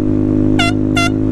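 An air horn gives two short, loud blasts about half a second apart over a steady low drone, all within a second and a half.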